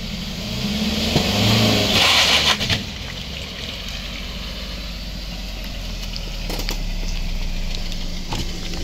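A car drives during a driving exam in Bemowo, its engine a steady close hum inside the cabin, swelling briefly early on, then settling into an even idle-like drone without talk.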